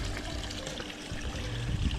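Water from a homemade backyard stream feature flows and trickles over rocks in a steady, close rushing wash, fairly soft and continuous with no talk.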